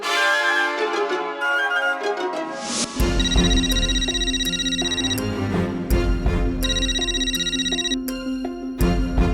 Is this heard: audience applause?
no